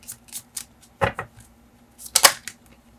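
Tarot cards being gathered and shuffled, a series of short crisp riffling and tapping bursts, close and fairly loud, with no talking.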